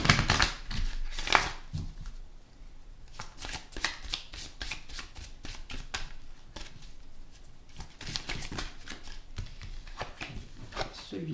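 Oracle cards being shuffled by hand during a reading, giving repeated crisp riffling bursts with short pauses between them, close and moderately quiet, with no talking.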